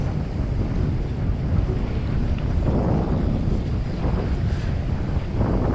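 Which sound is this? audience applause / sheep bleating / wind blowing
wind blowing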